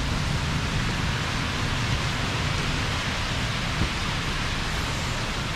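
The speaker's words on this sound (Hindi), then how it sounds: "अभी मैं हूँ सिंगापुर में और बारिश हो रही है" Steady rain in Singapore hisses continuously, a dense even wash of sound with no voices over it.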